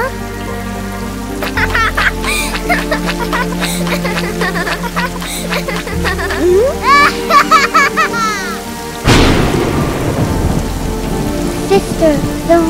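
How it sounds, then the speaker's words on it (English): Rain and thunder in the Roblox game Brookhaven, with loud, steady rainfall on surfaces and a sudden thunder crash near the end, mixed with game music and effects. "Sister, the rain is so beautiful."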